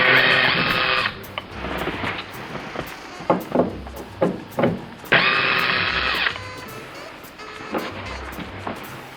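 Two sustained whirring bursts from a power screwdriver backing out Phillips head screws holding the sun visor on a Camaro with a T-top headliner, with small clicks and knocks of handling between the runs.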